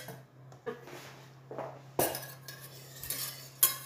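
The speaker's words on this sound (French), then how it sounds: "Je vais mélanger un peu tout ceci." A utensil stirs freshly grated lemon zest into a mixture for a lemon butter sauce, with soft scraping and a few light clinks against the bowl, close and quiet, no talking.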